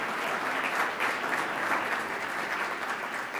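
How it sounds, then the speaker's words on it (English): Audience at a nonprofit club luncheon gives a round of applause for sponsors, even moderately loud clapping sustained throughout. "So let's give all the sponsors a big round of applause"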